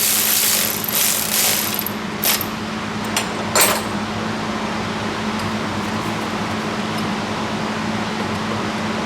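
A hand ratchet clicks away while a few random bolts are snugged in to check fitment on a Toyota 2JZ single-turbo install in a Nissan 240SX, with rapid pawl clicks near at the start over a steady fan-like hum.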